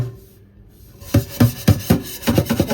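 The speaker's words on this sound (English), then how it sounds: "going to scrub it with the Brillo pad" A Brillo pad scrubs rusty kitchenware in a series of about six close, rasping strokes at a steady rhythm, following a quiet second at the start.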